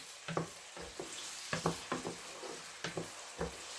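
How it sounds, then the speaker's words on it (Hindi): Finely chopped onions sauté in a pan, giving a soft sizzle under repeated scraping stir strokes in an uneven rhythm, close but quiet. No one speaks. "ये हम अपने बिल्कुल मैंने फाइन चॉप किए हुए ये प्याज अब हम इसमें डाल देते हैं।"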